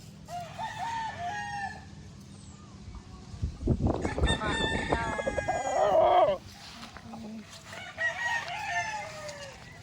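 Chickens cluck softly nearby while a rooster crows loudly in a long, close call midway, followed by more scattered clucking and short calls from the flock.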